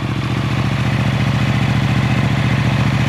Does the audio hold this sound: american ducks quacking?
no